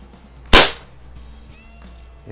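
A single sharp, loud CO2-powered BB pistol shot, Daisy model 1200 or Crosman 1600, cracks close by and fades quickly, followed by quiet room tone and a faint click near the end.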